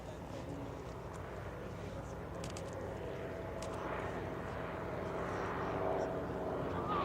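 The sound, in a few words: motor gliders flying a low pass over the runway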